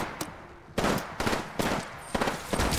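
Apex Legends gunfire comes in several sharp bursts of rapid shots, loud and close, separated by brief pauses.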